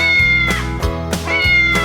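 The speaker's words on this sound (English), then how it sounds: "Right, the cats go" A domestic cat meows repeatedly, three or four clear drawn-out calls set over a backing of children's animal-song music that keeps playing underneath.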